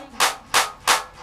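Devotees clap their hands at a Balaji bhakti bhajan: three loud, sharp claps land in an even, steady rhythm, close and clear.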